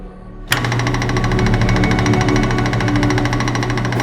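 Wood lathe switched on inside a truck camper: a sudden start into a loud, steady mechanical drone with a rapid pulsing rattle that keeps running unbroken right up close.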